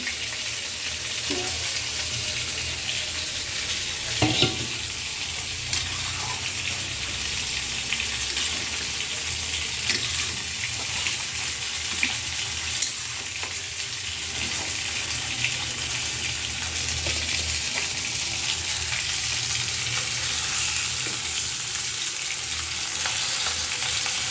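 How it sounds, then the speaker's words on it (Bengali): Potatoes frying and sizzling in a pan for home-cooked fish curry, with a steady close hiss and occasional scraping stirs, no talking. "তো কফি আলু দিয়ে এটা আমি ভালো করে কষায় নিচ্ছি"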